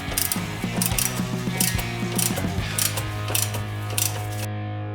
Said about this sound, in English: Once the bolt is loose enough, switch to a ratchet.